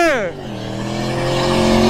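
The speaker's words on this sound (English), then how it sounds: "I almost got hit by a car" A car sweeps close past with a falling pitch as it goes by, then its engine note settles into a steady drone, loud and near.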